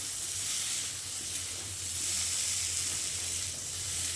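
Fried potatoes, boiled about 70% beforehand, are added to a pan of cooking gathi kochu taro, and a steady, close broadband sizzle runs evenly throughout with no voices.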